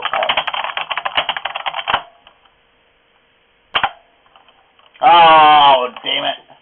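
Fast clicking keystrokes on a computer keyboard come in a burst, pause, then return in a short flurry, while a person's voice breaks in near the end.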